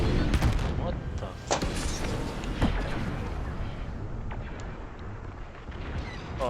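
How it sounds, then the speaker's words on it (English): A missile strikes in a video-game battle: a loud, close explosive boom lands among sharp gunfire-like bursts and rumbling impacts. A player talks underneath. "Oh, it was a missile."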